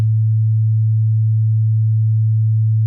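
A pure 110 hertz sine wave tone, a steady low hum, loud and unchanging from start to finish with nothing else heard.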